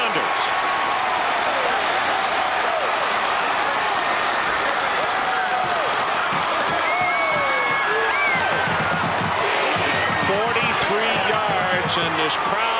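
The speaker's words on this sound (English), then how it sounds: "And this crowd erupts in Morgantown." A stadium crowd in Morgantown roaring after a West Virginia touchdown against Syracuse in a 1998 college football game, a continuous loud swell of cheering with a commentator speaking over it.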